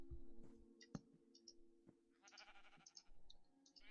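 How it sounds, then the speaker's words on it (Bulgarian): A Minecraft sheep bleats in the game, with short bleats over clicks and game sounds in a quiet survival world, heard close and fairly faint. "тъпа овца, само ще ме буде."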